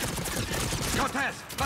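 Rapid gunfire in Mass Effect 3 during a battle on Thessia, a dense crackling burst of shots lasting under two seconds, fairly faint and mixed with other game sounds.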